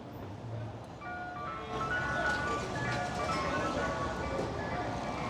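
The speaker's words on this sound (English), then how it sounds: "we hear this ice cream truck jingle for a little bit" An ice cream truck's tinkling jingle plays steadily over busy street noise on the Grand Concourse in the Bronx, New York City, with traffic rumbling underneath throughout.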